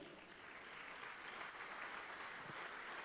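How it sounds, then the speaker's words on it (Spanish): A church congregation claps together in a steady, continuous wash of applause during a Spanish-language worship service, fairly faint and even in level. "Le damos un aplauso al Señor."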